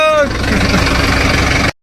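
Tractor engine running close by in a rough, throbbing idle, loud and steady for under two seconds before cutting off abruptly, with a voice briefly heard at the start.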